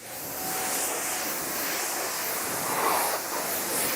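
Pressurized pre-rinse water spraying onto a car at a car wash, a steady loud broadband hiss with no pauses for the full stretch and no talking.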